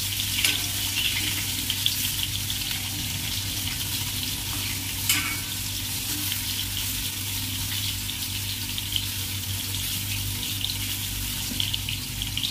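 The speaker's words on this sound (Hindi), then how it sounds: "बैंगन जो हमारे पकना शुरू हो चुके हैं, बस इन्हें हिलाते रहिए" Steady broadband sizzle of eggplant frying in a pan, with occasional soft scraping as it is stirred, continuous and close with no talking.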